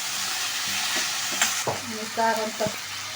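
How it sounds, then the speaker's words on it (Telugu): Chicken leg pieces fry in hot oil with cashews and curry leaves, giving a steady close sizzle with a few sharp stirring clinks and bumps from the pan and no talking. "నెక్స్ట్ లెగ్ పీస్లు అనేది యాడ్ చేసుకొని మొత్తం ఫ్రై చేసుకోవాలి."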